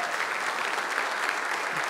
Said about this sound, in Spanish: Denle el aplauso al rey.